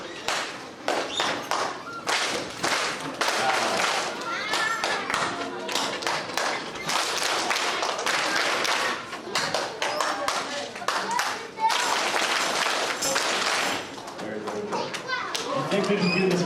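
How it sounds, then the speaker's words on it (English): Audience joining a musical Simon Says game, rapid bursts of clapping and stomping thuds in repeated rhythmic patterns, with children's voices and an adult leader talking between rounds. "I think we can do this with our stomping and our claps, yeah?"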